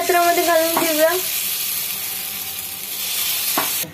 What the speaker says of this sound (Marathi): आता हे बॅटर या आप्या पात्रामध्ये घालून घेऊया।